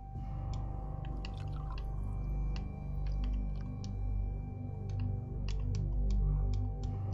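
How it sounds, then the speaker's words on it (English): Plants being watered in the horror video game The White Path: soft, scattered drip and splash clicks over a steady droning game soundtrack. "water these plants."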